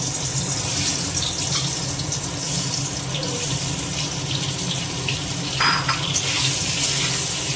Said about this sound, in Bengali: তেল গরম হয়ে গেছে, এবার আমি ডিমগুলো ছেড়ে দিচ্ছি।